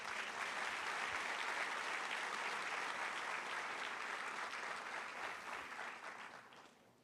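Church congregation applauding during a Portuguese-language worship service, a dense sustained wash of clapping from a sizeable crowd that holds steady and then tapers away at the end.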